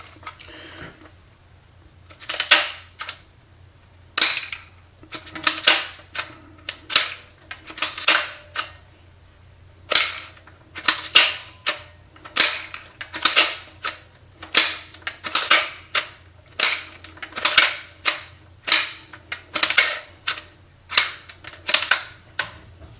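A Rap4 468 DMR airsoft rifle body cycles with its barrel removed, firing off roughly two dozen sharp, loud mechanical snaps up close, some singly and some in quick pairs or short bursts, with no talking.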